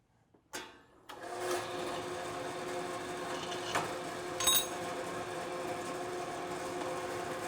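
A drill bores a body-size hole through a thermo-formable composite upright. After a couple of brief starts it settles into a steady, close whirring whine, with one short sharper squeal partway through.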